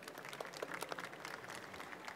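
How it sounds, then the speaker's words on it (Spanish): Conference audience at a Mexican entrepreneurship talk applauds to welcome the speakers, a continuous crackling wash of many hands clapping, soft and somewhat distant, with no talking. "Por favor, les pido un aplauso para recibirles."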